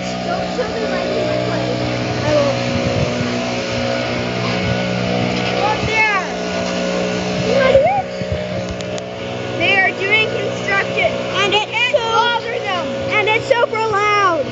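A gas leaf blower blasting muddy dirt off a truck, running as a loud, steady engine roar through the whole stretch while people talk and call out over it.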